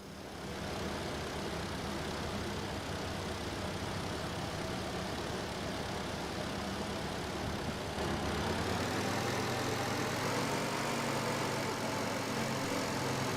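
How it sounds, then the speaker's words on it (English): A car engine idles steadily in Car Dealer Simulator, with a faint ticking from worn valve clearances, a continuous dense drone that shifts slightly in tone partway through. "Engine's ticking a bit"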